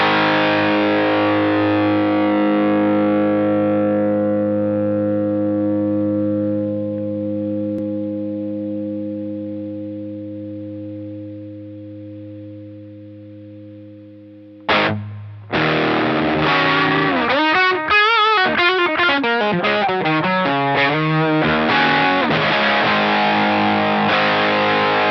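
Electric guitar played through a Phenyx Pro PTG-11 wireless unit: one sustained chord rings out and slowly fades for about fourteen seconds, then a fresh strummed chord rings loudly with a gritty, distorted tone.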